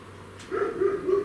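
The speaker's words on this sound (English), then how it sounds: "excuse the dog." A single dog gives a short, fairly close whining bark that stretches into a drawn-out yelp, heard indoors on its own with no talking.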